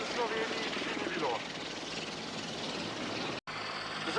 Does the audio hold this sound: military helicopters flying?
yes